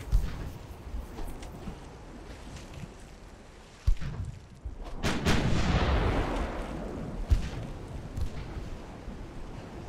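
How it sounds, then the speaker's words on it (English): Salvo of 11-inch naval guns firing in the naval warfare game Ultimate Admiral: Dreadnoughts, heard as several heavy booms at uneven intervals, one loud blast followed by a rumbling roar, over a low steady background. "See if our next salvo of our 11 inch can hit."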